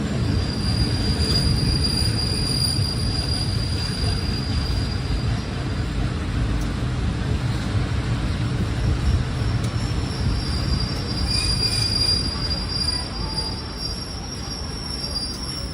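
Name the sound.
commuter train running in Thailand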